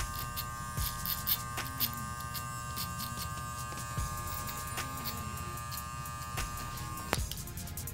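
Electric hair clippers buzz steadily at a barber's undercut-and-beard haircut, a faint continuous hum broken by small clicks and taps as the blade works the hair, with no talking.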